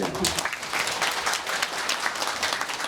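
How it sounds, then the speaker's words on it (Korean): Sustained, fairly soft applause from a talk-show audience celebrating a birthday, an even crackle of many hands throughout with no clear voice over it. "이게 생일이신 것 같은데 오늘 한번 박수 한번 주시죠."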